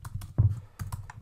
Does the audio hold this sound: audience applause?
no